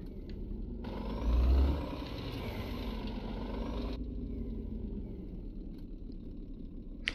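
A truck in the On the Road video game on Xbox One X, with engine sound recorded from real trucks, hums along as a low, steady rumble at moderate level, swelling briefly early on.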